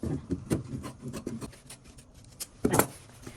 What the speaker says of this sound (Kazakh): Енді бұны да былай ашасыз да, бұны да қиып шығасыз.